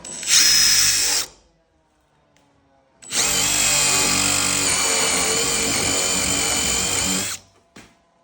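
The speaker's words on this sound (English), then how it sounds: "what I do is just cut for the spindle hole" A power drill bores a spindle hole through a door for a thumb-lock, running in two loud, steady bursts, a short one then a longer one of about four seconds, with a brief pause between and no talking.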